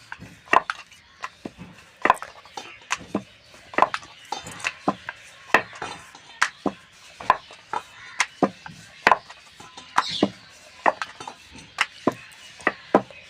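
A rolling pin works paratha dough for torn-style paratha, giving a steady run of sharp knocks and thuds as it presses and rolls, close and fairly loud, with no talk.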